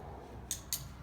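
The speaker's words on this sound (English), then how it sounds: "I'm clicking just every few steps." A dog-training clicker snaps twice in quick succession during loose-leash walking practice, two sharp, bright clicks about a quarter second apart over quiet outdoor background.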